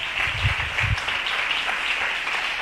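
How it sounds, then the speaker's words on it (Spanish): A church congregation applauds a visiting woman during a service, a short, even wash of clapping heard from a moderate distance with a couple of low thumps near the start. "un aplauso para ella también."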